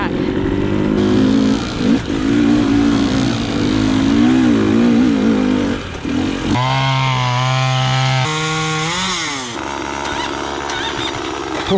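Dirt bikes ride high alpine mountain singletrack in Utah, with loud continuous engine drone and revving pitch swings as the throttle rises and falls, close to the rider and with no talk.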